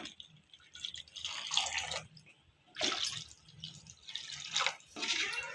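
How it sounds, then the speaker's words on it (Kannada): Water poured into a pan of spice mix fried in oil for a fish curry, heard as faint splashing and trickling in several short bursts separated by quiet pauses, with no talking. "ಈಗ ನೀರು ಹಾಕ್ಕೋತಾಯಿದ್ದೀನಿ."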